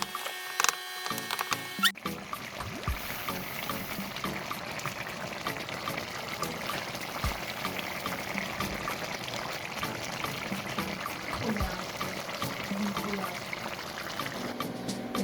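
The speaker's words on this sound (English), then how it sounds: "once the soup is getting thicker, you're gonna add your water." Water poured into a simmering pot of beef stew, a steady trickling pour that runs continuously after a brief clatter, fairly close and moderately loud with no talking.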